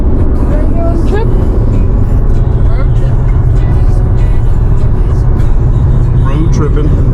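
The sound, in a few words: car driving on road trip to Maine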